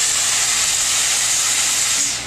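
A Therma Steem Deluxe steam cleaner with a floor attachment gives off a loud, continuous steam hiss that holds steady and then starts to tail off at the very end.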